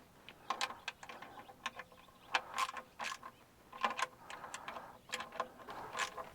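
Ratchet clicking in quick uneven bursts while transmission pan bolts are tightened by feel on a 2011 Impala with a 4T60-E transmission, the sharp ticks close and moderately loud.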